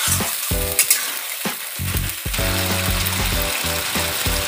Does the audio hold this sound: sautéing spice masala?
yes